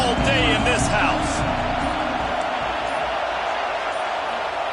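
College football stadium crowd giving a loud, steady roar that fills the whole clip, dense and continuous with only slight swells.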